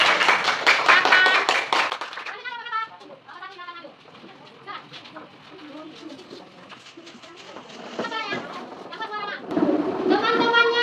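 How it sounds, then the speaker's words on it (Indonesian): A classroom of students applauds a presenting group, a burst of brisk, close clapping for the first couple of seconds before it fades and voices take over, with a few light claps continuing under the talk. "Beri tepuk tangan kepada kelompok 3."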